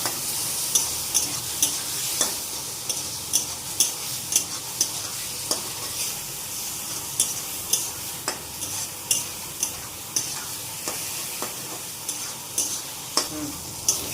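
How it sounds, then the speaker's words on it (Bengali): Spices fry in a pan with a constant sizzle and hiss, while regular spatula scrapes and taps mark a steady stirring rhythm, close and clear. "মশলাটা একটু ভেজে নিই"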